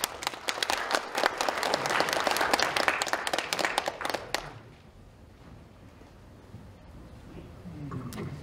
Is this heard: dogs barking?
no